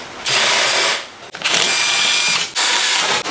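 A cordless power tool whirs in two sustained bursts with a brief ratcheting pause between them, close and loud, while removing bolts from the steel frame of a TAKANI electric dirt bike during assembly.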